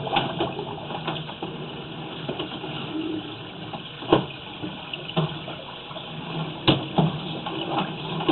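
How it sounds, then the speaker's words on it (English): Water runs steadily in a utility room with a toilet and utility sink, washing small debris out. It makes a continuous rushing wash with a few louder clunks and splashes along the way. "You can see just by running that water, they washed out of there."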